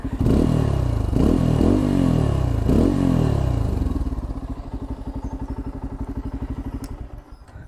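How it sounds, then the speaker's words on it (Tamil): A Bajaj Pulsar N250 motorcycle from 2022, ridden on the road with its exhaust note up close, opening with loud throttle blips and revs before settling into a steady, throbbing pulse that fades slightly toward the end. "அண்ட் எக்ஸாஸ்ட் நோட் வேறு லெவல்."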